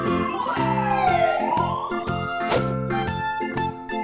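Fire engine siren wailing loudly, its pitch sweeping up and down in repeated cycles, with bright ringing tones under the wail.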